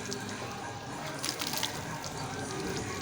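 Water is poured or splashed onto a buffalo's wound as it is treated, giving a steady, close wash of splashing and trickling with a few brief louder spatters in the middle.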